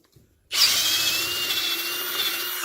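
A Ryobi 18V cordless drill in torque mode bores through wood with a sudden, loud, steady whine that holds for a couple of seconds, with no talk.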